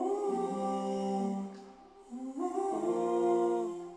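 Layered vocal samples sung together as sustained harmonized tones, treated with room reverb and EQ, two held phrases with a brief dip between, loud and close with no talking.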